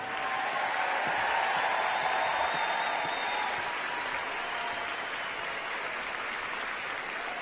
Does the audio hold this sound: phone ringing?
no